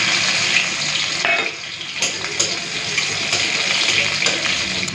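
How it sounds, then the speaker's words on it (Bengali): Dried red chilli and crushed garlic fry in hot oil in a kadai, giving a loud, steady sizzling hiss with small crackles and a brief dip in level, with no talking. "এই যে তো তেলের মধ্যে শুকনো লঙ্কাটা ফোড়ন দিয়ে দিয়েছি, দিয়ে দিচ্ছি থেতো করা রসুন"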